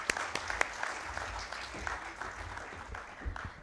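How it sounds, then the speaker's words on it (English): Applause at a trauma surgery conference, a thin scattering of claps from a smallish audience, fairly faint and brief, with room noise in the background. "I think that requires a round of applause"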